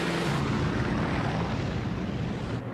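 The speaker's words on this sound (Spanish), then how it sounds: "Tandas y más tandas de aviones norteamericanos preparan el terreno mediante intensos bombardeos aéreos." Formations of American warplanes roar overhead on a bombing raid over a Pacific island, a dense, continuous low drone of engines that holds steady and loud throughout.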